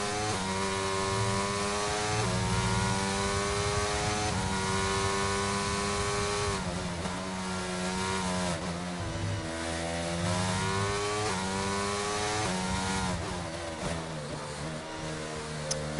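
Racing car engines rise and fall through the gears in a sprint race at Imola, several cars heard near and steady, their whine sweeping up and down continuously with no talk.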